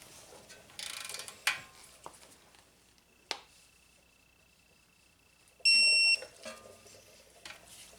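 A castle nut being tightened on a Honda Accord lower control arm during a compliance bushing replacement: scattered mechanical clicks and ratcheting, a sharp metallic knock, and a brief high beeping tone amid quiet workshop stretches.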